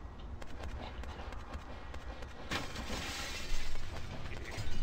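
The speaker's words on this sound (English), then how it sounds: "You hear the glass break?" Glass shatters in the video game Vampire: the Masquerade - Bloodlines, a sharp crash midway through a dim, busy game soundscape of ambient noise and movement.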